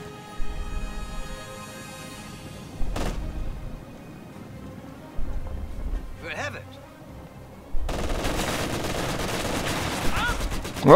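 Machine gun fire in Company of Heroes 2 comes as repeated short bursts of rattling shots, each a few seconds apart, then turns into a denser sustained volley near the end, with distant battle noise between the bursts.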